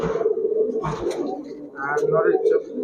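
Giribaz high-flyer pigeons cooing in a shop, soft repeated coos and rustling close by, with people talking over them throughout.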